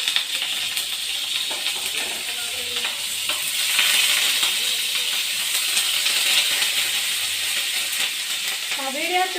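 Onion, green chilli and curry leaves sizzling steadily in hot oil in a pan while being stirred, a continuous close hiss with occasional scraping.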